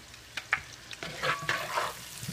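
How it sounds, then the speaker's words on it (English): Green beans being stirred in a hot pan, with soft sizzling under intermittent scraping and clacking strokes of a utensil, close by and moderately loud, no one talking. "I'm going to stir these green beans too"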